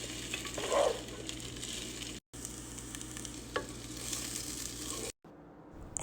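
Asparagus and chives frying in a pan for breakfast, a steady close sizzle with occasional stirring scrapes, heard without talk and briefly cut off near the end.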